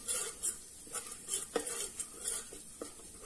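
A spoon stirs crushed red chilli in a pan, making soft, repeated scraping and clinking strokes at close range, quiet, with a light sizzle underneath.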